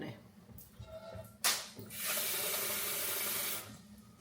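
Water runs from a tap into a pot for boiling rice, a bright, steady hiss of pouring lasting about a second and a half after a short splash, with faint kitchen noises before it.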